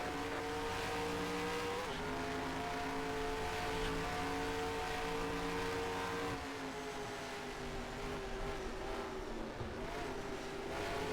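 A stock car engine in NASCAR Racing 2003 at Phoenix roars loud and continuous, its pitch dropping sharply at downshifts around two and six seconds before climbing again under acceleration.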